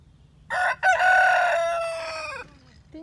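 A rooster crows once, loud and close, a long drawn-out call that rises and then trails off, with no other sound.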